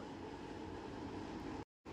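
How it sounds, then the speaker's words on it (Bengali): Mixer grinder jar whirring as it blends ripe mango pieces into a smooth paste for an eggless mango cake, a steady loud motor drone that cuts out briefly near the end before resuming. "মিক্সার জারে আমের এরকম একটা স্মুথ পেস্ট বানিয়ে নিয়েছি।"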